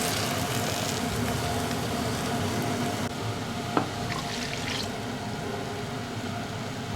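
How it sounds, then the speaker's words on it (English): Unsweetened soy milk is poured into a hot pan, giving a steady broad wash of liquid and sizzle that softens partway through, with a single small clink near the end. "add 2 cups of your favorite plant-based milk. I'm using unsweetened soy milk."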